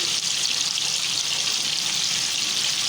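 Gola kababs deep frying in hot oil over a medium flame, a steady, close, loud hissing sizzle throughout with no talk.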